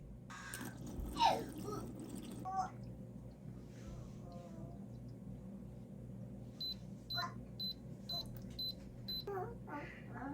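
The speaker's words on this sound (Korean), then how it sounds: "물로 한번 헹궈서 넣고 세제를 넣은 다음 물을 붓고" Water poured into a Kkumbi baby bottle sterilizer washer gives a soft, trickling splash in a quiet room, followed by a series of evenly spaced electronic beeps from the machine, with faint background voice.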